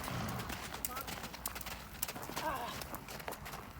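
A horse's hooves thud faintly in a canter over a riding arena surface, quiet rhythmic beats under a low background hum, while a person talks at a distance.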